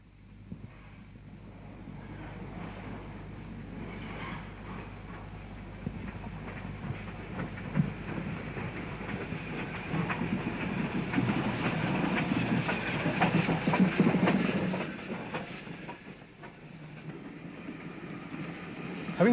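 A Brighton-built BR Standard Class 4 tank engine, number 8011, runs round its train, a steady rumbling and clanking of the steam locomotive rolling past that swells louder midway, then eases off.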